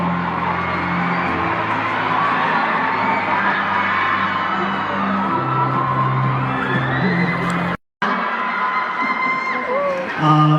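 A large audience at an awards show cheers, whoops and yells continuously and loudly, a sustained roar of crowd noise broken only by a brief dropout near the end.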